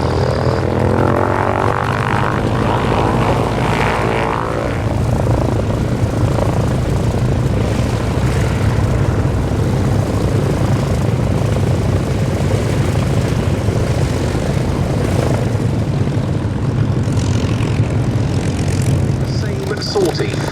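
Spitfire Mark IX fighters flying in formation at the Battle of Britain airshow at IWM Duxford, a loud, steady piston-engine drone that stays constant throughout, with a commentator speaking over it.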